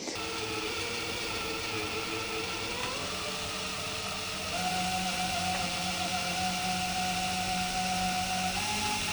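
A power drill runs steadily while drilling out rivets on the body of a C3 Corvette, a continuous whirring whine whose pitch steps up partway through, loud and close with no talking.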